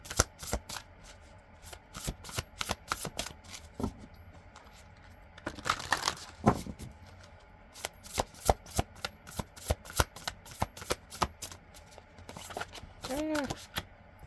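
A deck of oracle cards being shuffled, giving quick rhythmic riffles and soft flutters that repeat through the clip, close and fairly quiet, with brief handling noises and no talk.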